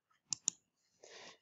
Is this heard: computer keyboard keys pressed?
yes